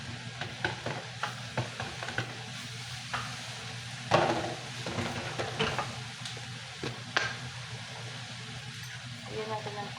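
Hotdogs frying in a pan with garlic and onion, a steady sizzle broken by clattering stirs and scrapes of a utensil, with some talk over the cooking.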